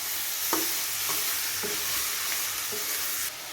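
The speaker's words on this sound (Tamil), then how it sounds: "இதையும் இந்த மசாலாவோட நல்லா மிக்ஸ் பண்ணி விட்டுக்குவோம்" Half a kilo of mutton sizzles steadily as it is stirred with masala in a pan for a goat curry gravy, with a constant frying hiss and occasional soft scraping strokes, no voices.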